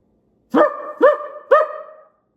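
A person imitates a dog with three sharp barks in a steady rhythm, each with a clear tonal yelp quality, close and fairly loud, with silence after.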